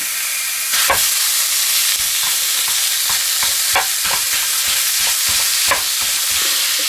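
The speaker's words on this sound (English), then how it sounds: "we're going to cook the beef until there's no more pink. We're also going to be chopping it up" One pound of ground beef browning in a hot pan over medium-high heat, giving a loud, steady sizzle and hiss, with repeated scraping and chopping taps from a utensil breaking up the meat.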